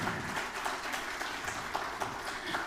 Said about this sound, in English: Let's give them the huge round of applause.